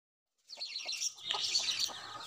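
Newly hatched chicks with their mother hen make a busy stream of high, thin peeping and chirping close by. It starts after a brief silence and continues without a break.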